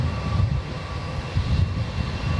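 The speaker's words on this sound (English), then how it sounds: "we've got Jetstar 321 rolling on" Jetstar Airbus A321 jet rolling down the runway for takeoff at Melbourne Airport, a steady, fairly loud engine roar with deep rumbling pulses heard from a distance, no talk over it.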